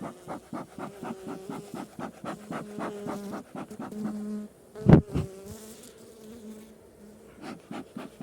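A swarm of honeybees arrives at a bait trap with a close, pulsing buzz, and a single loud thump breaks in midway.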